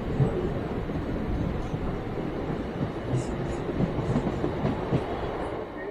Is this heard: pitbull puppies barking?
no